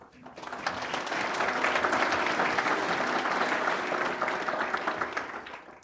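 An event audience gives a round of applause for a student panel, clapping swelling up, holding steady and loud for several seconds, then tapering off.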